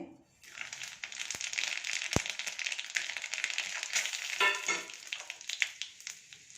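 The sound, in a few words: mustard seeds, chana dal, urad dal, fenugreek, cumin sizzling in hot oil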